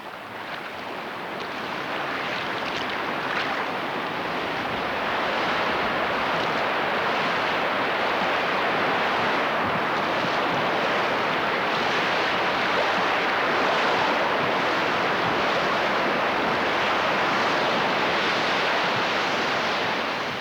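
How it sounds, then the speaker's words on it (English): River rapids roar in a broad, steady wash of noise that builds slightly at the start and then holds loud and constant throughout, on the Green River in Flaming Gorge. "One of the interesting sensations on the river is hearing the approaching rapids."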